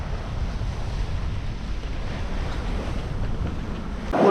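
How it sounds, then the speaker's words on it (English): Wind rushes and waves wash around a sailboat just outside the Coronado Islands between Mexico and the United States, a steady broadband roar of wind noise and surf with no voices. "And the wind picked up."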